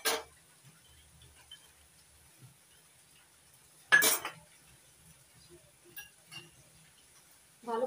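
Grated coconut and date palm jaggery being mixed in a bowl, a few sharp metallic clinks of a spoon against the bowl spaced apart, with quiet soft scraping between them.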